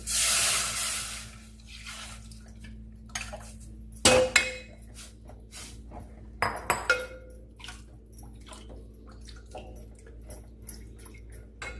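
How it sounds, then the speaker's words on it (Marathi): Buttermilk pours into a pan of fried turmeric for kadhi, a loud splashing hiss at first, followed by quiet drips and occasional clinks of a spoon against the pan. "हळद चांगली परतली की त्याच्यामध्ये आपण घेतलेले ताक टाकायचं"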